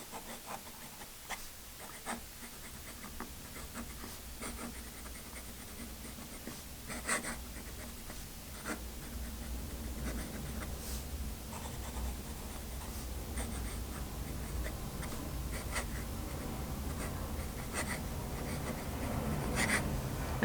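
A Moonman M2 extra fine fountain pen scratches across paper in short, close strokes with small pauses, a faint dry scritching that continues alone through the whole stretch.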